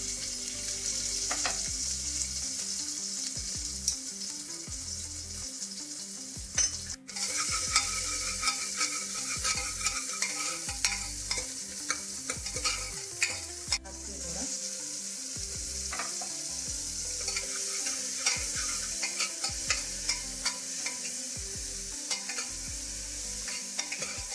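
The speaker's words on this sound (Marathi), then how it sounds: "तेल गरम झालेलं आहे. कांदा टाकते मी." Chopped onion sizzles steadily in hot oil at the start of a minced-mutton keema, with a dense, continuous fry and repeated spoon scrapes and clinks against the pan throughout.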